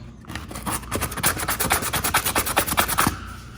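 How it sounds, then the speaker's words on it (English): A power sander grinding against dried caulking, giving a close, gritty rubbing buzz that pulses in quick rhythmic sweeps for a few seconds before cutting off. "I'll demonstrate what a sander does to caulking"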